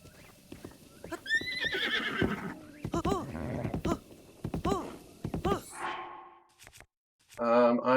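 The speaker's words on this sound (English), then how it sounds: "let's see if we can jump on one of these horses." Horse in Zelda: Breath of the Wild gives a loud, clear whinny early on, followed by clip-clopping hooves and game sound effects, with a brief snort near the end.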